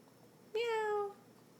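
A voice imitates a cat, giving a single clear, rising-then-falling meow, close and fairly quiet against a hushed room.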